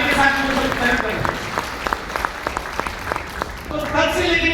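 Audience clapping at a training event in a hotel hall, a brief scattered round of claps between stretches of someone speaking loudly.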